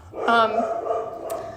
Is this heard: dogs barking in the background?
yes